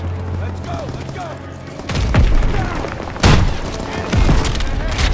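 Heavy explosions and gunfire in a Call of Duty WWII battle as a Panzer tank is destroyed, with several loud booming blasts over a busy combat din and voices shouting.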